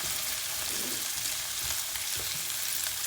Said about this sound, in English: I'm now frying it